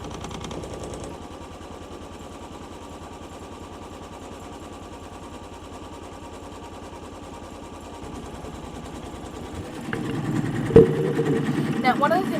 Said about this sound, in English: step 1 is we're going to stitch our outline